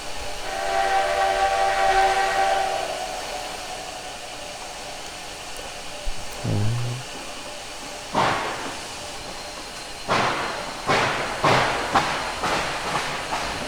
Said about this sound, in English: Same chuff sounds, which really are nice.